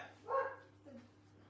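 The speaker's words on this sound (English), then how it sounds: "That's my dogs." Dogs bark outdoors at a distance, one sharp bark followed by a softer, shorter yip, faint and set against a quiet background with a low steady hum.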